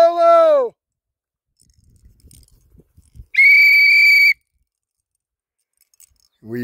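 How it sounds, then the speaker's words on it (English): Two loud, sustained whistle blasts separated by a pause, with faint rustling and handling noise between them. "We use whistles to communicate in Marco Polo."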